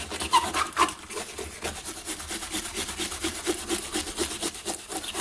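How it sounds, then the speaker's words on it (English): A stainless steel wire brush scrubs a piece with aluminium melted onto it, making a steady run of close, rasping back-and-forth strokes with no talk. "I'm scrubbing this with stainless steel brush, which has got aluminium melted onto it from my last attempt."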